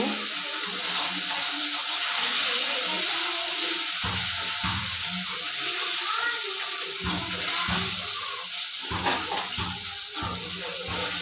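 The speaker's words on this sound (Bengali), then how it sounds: "এবার সব মাছগুলো একসঙ্গে দিয়ে নেব, দিয়ে ভেজে তুলে নেব।" Tengra fish frying together in a pan, giving a steady, loud hiss and sizzle of hot oil throughout, with a voice talking over it at times.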